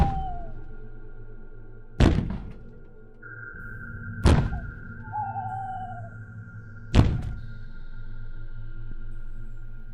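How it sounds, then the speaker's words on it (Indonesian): Three heavy, booming thuds land at roughly two-to-three-second intervals, each loud and close with a short decaying tail, over a quiet hum, like slow, weighty footsteps. "seperti suara orang berjalan namun dengan suara dentuman yang cukup kuat"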